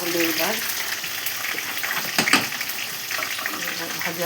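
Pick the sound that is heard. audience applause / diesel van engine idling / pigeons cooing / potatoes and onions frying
potatoes and onions frying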